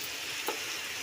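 Winter vegetables (flat beans, spring onion greens and potato) sautéing in a pan, a steady close hiss of sizzling with a faint soft stir in the middle.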